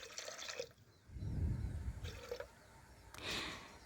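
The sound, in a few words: water poured into a pressure cooker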